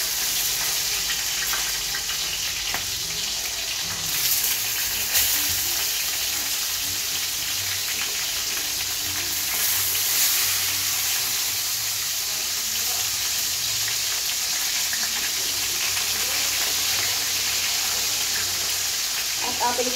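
Tilapia sizzles and spits in hot oil with fish sauce in a pan, a loud, steady crackle running the whole time with occasional louder pops and faint stirring.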